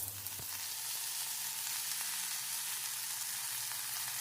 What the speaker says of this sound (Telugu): ఈ ఆనియన్స్ ఈ విధంగా వేగింది కదా, ఇప్పుడు ఈ కడిగి పెట్టుకున్నాం చూడండి మునగాకు, దీనిలో వేసేద్దాం